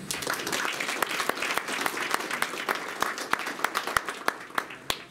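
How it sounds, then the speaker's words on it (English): Audience applause breaks out for the speakers at a university faculty colloquium, a dense close wash of clapping that thins into scattered individual claps toward the end. "Thanks all the speakers for time, so let's give them a hand."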